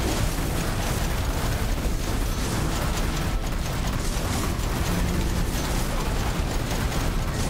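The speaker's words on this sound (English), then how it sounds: "We're gonna launch all kinds of explosive Gandalf fireworks at these little goblin hobbits." Explosive fireworks-style spell attacks in the action game Soulstone Survivors, a dense continuous barrage of bursts, crackles and mechanical clatter that stays loud and steady throughout with no pauses.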